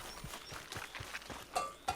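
A horse in the video game Red Dead Redemption clops along in a quick, uneven run of soft hoof thuds, fairly faint, with two sharper knocks near the end.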